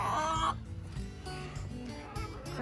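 Hens in a chicken tractor, scratching and pecking through compost in a deep-litter garden bed, give a few soft clucks and murmurs close by against a steady, busy background.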